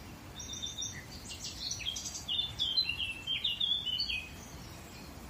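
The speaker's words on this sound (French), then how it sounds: "T'entends l'oiseau, c'est incroyable." Several birds chirp and trill nearby in the woods, a busy run of bright, quick calls over a steady low background rush, with no talking.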